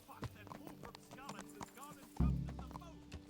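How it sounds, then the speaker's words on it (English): Horse walking in the medieval RPG Kingdom Come: Deliverance, its hoof clops sounding in a loose rhythm under someone talking, with a louder burst of low noise near the end. "Tá um fofo cavalo andando. Cavalo bem fofo andando."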